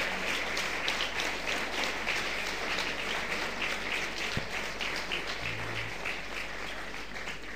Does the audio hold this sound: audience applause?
yes